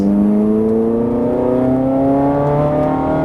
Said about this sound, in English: Down to third with your left hand, and on the gas